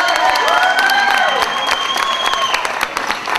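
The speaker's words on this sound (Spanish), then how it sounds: "Un aplauso para mi mami" Wedding guests applaud the bride's mother in a dense, loud burst of clapping and cheering, with a crowd murmur and whistle-like voices running through the whole stretch.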